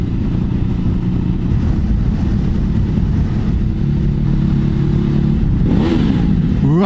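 A 2016 Ducati Hypermotard 939 motorcycle engine runs loud and close, with a steady droning idle that rises into quick revs toward the end.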